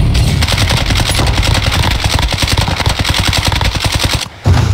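Rapid, loud bursts of gunfire crackle nearly nonstop in a video game firefight, sharp repeated shots close by, cutting out briefly near the end before resuming.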